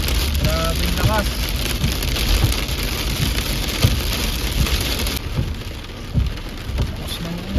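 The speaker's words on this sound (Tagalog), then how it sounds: "Lakas ng ulan." Heavy rain pours down steadily during a typhoon-strength storm with gusting wind, big drops drumming close by as a continuous loud wash, with a voice speaking briefly over it.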